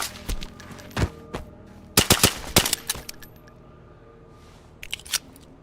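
.22 rifle shots ring out in DayZ after its 1.29 update: sharp, loud cracks fired irregularly, some single and some in quick clusters, with short pauses between.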